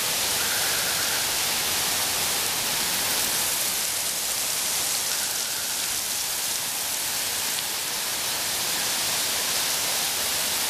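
Heavy rain pours down during a Texas storm, a dense, steady hiss that holds at an even loudness the whole time with no voices.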